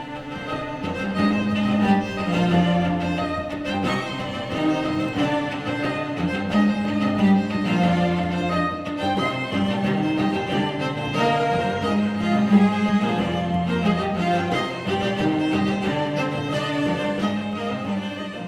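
A cello octet plays an arrangement of The Mandalorian theme, all eight voices together in a dense, continuous texture with low sustained lines and repeated rhythmic figures, steady and full throughout.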